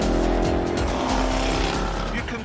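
Jaguar XE SV Project 8 on Michelin Cup tyres cornering hard at high speed, a loud continuous engine drone with steady harmonics and some tyre noise, sustained for the whole moment.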